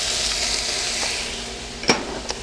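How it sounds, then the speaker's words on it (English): Jalapenos and garlic sauté in a pan for white chili, giving a steady close sizzle with a few sharp clicks of stirring near the end. "And then we're just going to saute that up quickly, get that to soften up a little bit"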